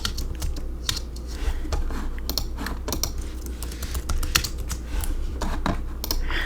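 Steady typing on a computer keyboard while setting up a ClassDojo account, with quick, close, irregular clicking keystrokes over a low background hum and no talk.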